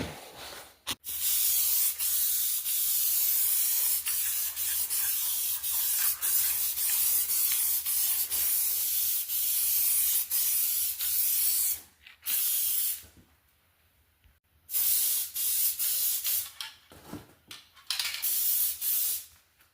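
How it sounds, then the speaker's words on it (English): Long bursts of aerosol spray adhesive hiss loudly and steadily, broken by short pauses and a few quick spurts near the end. "we'll spray this and the drawer with the adhesive"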